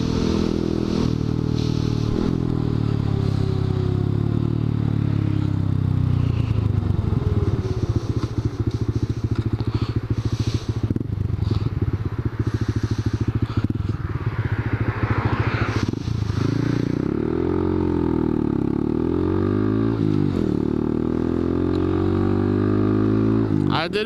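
Honda Grom motorcycle fitted with a new exhaust idles loudly and close by, its low burbling engine note steady throughout with occasional small throttle blips and mechanical clatter.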